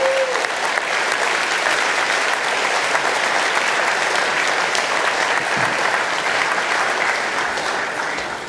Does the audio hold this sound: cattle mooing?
no